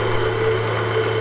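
A three-phase repulsion motor runs at full power near 6,600 rpm, a steady close electrical hum with a constant tonal whine, unbroken through the brief moment.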